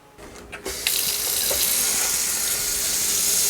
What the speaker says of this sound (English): Let all these faucets run till no more water comes out.